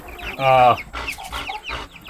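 A flock of young chickens and a rooster raised from grandchildren's hatchlings cluck nearby, with one loud drawn-out squawk followed by softer scattered clucks and chirps, and no talk.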